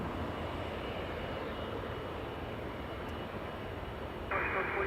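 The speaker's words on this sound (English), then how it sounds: "We have Singapore Airlines A350-900 going back to Singapore." Singapore Airlines Airbus A350-900 jet engines at Los Angeles International Airport give a steady, broad rumble throughout, with a voice talking over it.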